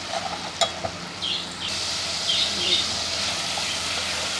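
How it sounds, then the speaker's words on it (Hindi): Steady sizzling hiss of onions frying in a pan, with a few clinks and stirring scrapes early on. "अब हम इसमें अपनी प्याज डालेंगे। प्याज को हल्का सा गुलाबी करेंगे।"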